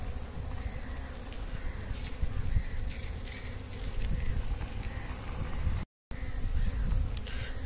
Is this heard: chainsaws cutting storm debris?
no